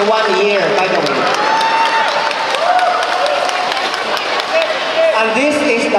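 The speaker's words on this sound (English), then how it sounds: "we give them a big round of applause" A large audience applauds steadily and fills the whole stretch with dense clapping, while a voice speaks over it, ahead of a Golden Jubilarian dance number rehearsal by a 1968 high school class.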